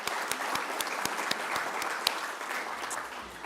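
Audience applause at a First Nations National Guardians Gathering: steady crowd clapping with distinct individual claps, moderately distant, no speech.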